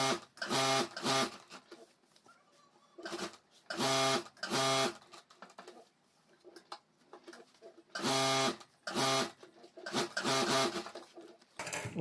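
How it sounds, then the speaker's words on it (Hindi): A sewing machine stitches around a square of fabric for a school bag in short, loud, whirring bursts separated by quiet pauses, close by. "तो पूरे स्क्वायर में मैं सिलाई कर देता"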